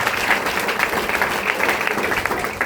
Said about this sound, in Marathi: मॅडम साठी जोरदार टाळ्या